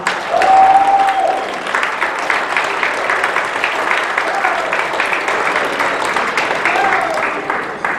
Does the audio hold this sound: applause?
yes